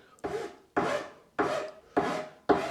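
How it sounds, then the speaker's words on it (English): A file rasps along the edge trim of a laminate worktop in five even, rhythmic strokes, each a close, loud scrape with short pauses between, and no talking. "Tiny bit more filing."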